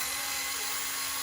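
A power drill drives screws into a Fast and Furious-style RC drift car, a steady, close, high-pitched whir that runs unbroken throughout.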